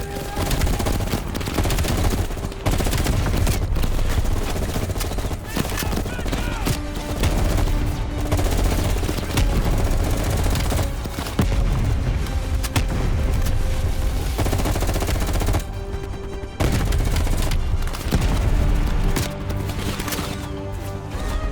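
Heavy gunfire from many enemies in Call of Duty Black Ops Cold War, a dense, loud, continuous barrage of overlapping shots and bursts with only brief lulls, set against game music and effects.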